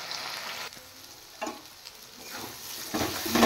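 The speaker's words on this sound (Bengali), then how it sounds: "এবার মশলাটা একটু কষিয়ে নেব ভালো করে।" Spice paste of ginger, garlic, onion and chili powder fries in a pan, a steady close sizzle with bursts of louder crackle as it is stirred, no voices.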